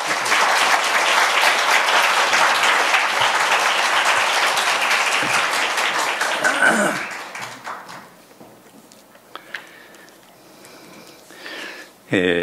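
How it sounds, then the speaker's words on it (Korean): Church congregation applauding in welcome of a pastor before his sermon, a dense, loud sustained clapping for about seven seconds that then fades into quieter room sounds and scattered small noises. "우리 큰 박수로 환영해 주시면 감사하겠습니다."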